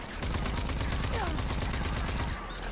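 Rapid, loud shotgun fire fills a video game battle, with dense overlapping blasts and crackling reports in a continuous barrage.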